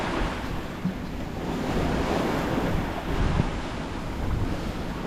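Ocean waves and strong wind while a sailboat beats into the weather on an Atlantic crossing, a steady loud rushing wash with gusty microphone buffeting and swelling surges of surf, no voices.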